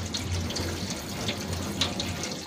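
Steady close pouring of water onto bean sprouts in a pot, a continuous splashing flow throughout.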